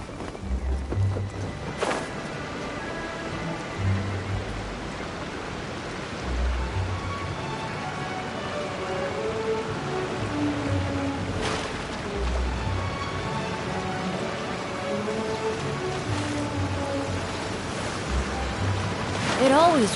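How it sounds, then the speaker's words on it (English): Steady rain hiss from the video game Genshin Impact fills the scene at a constant level, with game music tones and occasional thunder-like low thumps layered over it. "It always rains when I go on an adventure."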